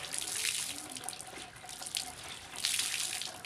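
Water trickles and splashes steadily into a basin as a cloth is wrung out by hand during laundry washing, a continuous close, hissing stream with two swells, with no talk.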